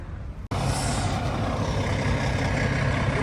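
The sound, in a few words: small bus with air brakes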